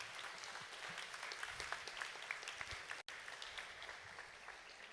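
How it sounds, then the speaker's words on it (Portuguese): An audience at a formal ceremony honoring public defenders breaks into applause, a continuous, fairly faint patter of many hands with a few sharper claps and one momentary dropout midway. "eu queria até uma salva de palmas"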